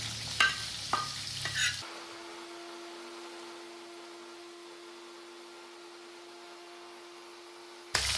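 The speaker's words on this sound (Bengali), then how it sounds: "মাছগুলো একটু কড়া করে ভেজে নিতে হবে।" Sating fish frying crisp in oil in a kadai opens with a few clattering stirs, then settles into a steady sizzle with a constant low hum underneath.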